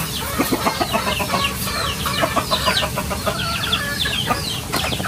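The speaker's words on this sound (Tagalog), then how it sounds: "pakain na ng mga alagang manok at baby" Pet chickens cluck busily at feeding time, with several birds overlapping in close, continuous chatter against a rough outdoor background.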